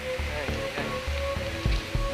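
Rain patters densely through the Papua New Guinea jungle, a close, continuous wash with a few heavier drops and a faint steady tone running underneath.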